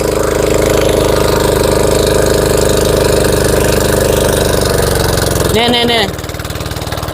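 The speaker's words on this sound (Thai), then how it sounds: "เสียงเครื่องเปลี่ยนแล้ว" A water pump engine runs loudly and steadily, then its tone shifts and drops as water arrives. Someone speaks briefly near the change.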